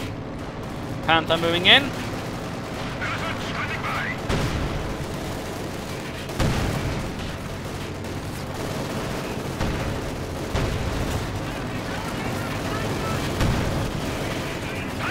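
Gunfire and explosions from a tank battle in the Company of Heroes 2 strategy game, including a Sturmpanzer IV firing, with heavy booms and shots rumbling continuously under a commentator's voice.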